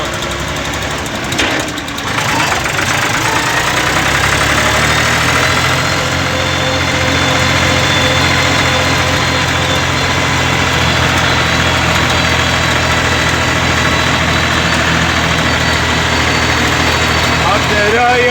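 A steady, loud engine running near a crop field plantation, holding a continuous idling roar with a low, constant rumble throughout and a brief dip near the start.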